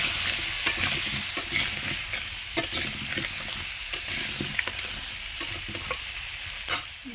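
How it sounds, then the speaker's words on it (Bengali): Potatoes seasoned with salt and turmeric sizzle steadily in a pan up close, with frequent sharp scrapes and taps of a spatula stirring them and no voices. "দেখো আলুগুলো লাল লাল করে ভেজে নিচ্ছি, ভাজা হয়ে এসেছে।"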